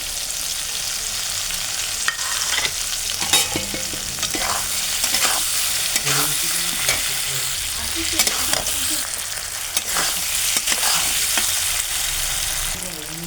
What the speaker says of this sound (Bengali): এরপরে আমি ফুলকপি ভাজাটা দিয়ে দেবো।